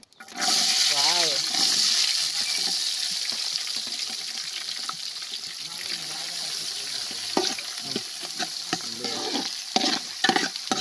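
Sliced onions hit hot oil in a pan for a Kerala chicken curry, bursting into a loud, steady sizzle with occasional stirring scrapes and a brief voice in the background.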